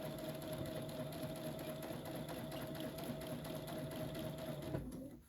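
A sewing machine with a walking foot stitches a seam on quilt binding, running at a steady, even hum close by and then stopping abruptly near the end.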